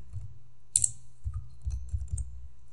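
Typing on a computer keyboard: a handful of quiet, uneven key clicks in short bursts, close up, with silence between them and no talk.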